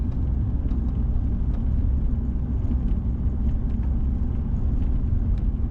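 A Turbo Coupe accelerating, a steady deep engine and road rumble heard from inside the car, loud and continuous with no voices.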